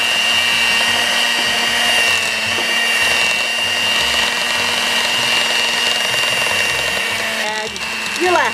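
Electric hand mixer whirring steadily at close range as eggs are beaten into pound cake batter, a constant motor hum with a brief scraping change near the end.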